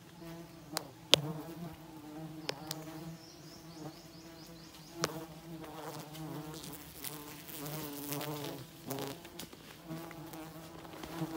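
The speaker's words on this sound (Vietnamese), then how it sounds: "Mọi người nghe chạch chạch chạch chạch chạch không? Nó cắn vào cái bộ đồ người của mình đấy." Bees buzz densely and steadily around a beekeeper's protective suit during a honey harvest, a close humming swarm with sharp clicks and taps as insects strike the fabric.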